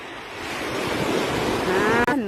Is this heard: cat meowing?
no